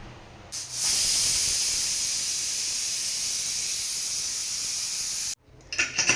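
A pressure cooker whistles as it vents steam while sprouted moong beans and drumsticks cook inside, a loud, steady hiss held for about five seconds before it cuts off, followed by a few brief clatters.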